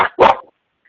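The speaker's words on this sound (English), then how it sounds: "I hear a great big humongous dog barking at us right now" A big dog barks twice over a phone line during a conference call, a short yelp followed by a louder, fuller bark, then silence.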